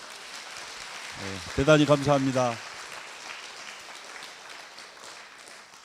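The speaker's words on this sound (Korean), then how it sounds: "박수 한번 해주십시오." Applause from a church congregation at a revival meeting: a steady, diffuse patter of many hands that runs throughout, with a voice speaking over it partway through.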